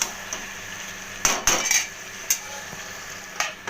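A metal lid lifted off a pot of dried fish curry, with a few sharp clanks and rattles over a quiet background hum, close and brief with no talk.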